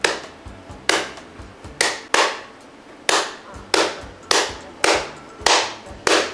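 Slow, deliberate hand clapping done in imitation of a grandfather's way of clapping: about ten loud, sharp single claps spaced roughly half a second to a second apart, close to the microphone, each with a short ringing tail and no talk between.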